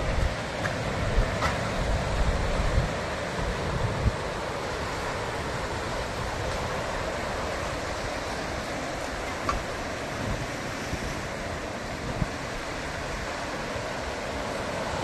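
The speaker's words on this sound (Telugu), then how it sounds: "ఇదే బీచ్ వచ్చేసింది" Steady roar of surf and wind at a beach in Gokarna, Karnataka, fills the whole stretch, a constant washing rush with no distinct voices.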